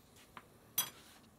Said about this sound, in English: I have a spoon. Great. Give it a stir.